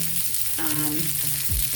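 Pork tenderloin sizzles and fries with a steady hiss filling the clip, with a brief clatter of movement partway through; no one speaks.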